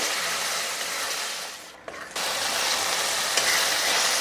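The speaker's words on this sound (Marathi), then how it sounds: "आता आपल्याला ह्यामध्ये टोमॅटोची पेस्ट घालायची आहे आणि टोमॅटोची पेस्टसुद्धा मी दोन ते तीन मिनटं चांगली परतून घेणार आहे" Tomato paste sautés in oil in a pan for chole masala, giving a dense continuous sizzle with stirring scrapes and a brief dip midway, close and steady, with no voices.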